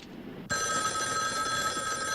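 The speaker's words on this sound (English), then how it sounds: "I've tapped this phone so that when it rings, it'll ring at the station house, too" A telephone starts ringing abruptly partway through, with a steady bright electronic bell tone sustained at moderate volume and no talking over it.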